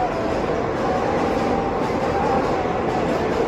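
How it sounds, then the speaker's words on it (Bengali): A train crosses a bridge directly overhead, making a loud, continuous, close rumble with a steady clatter that lasts throughout and has no voices over it. "আমার ওপর দিয়ে ট্রেনে যাচ্ছে ব্রিজে করে, ব্রিজেতে।"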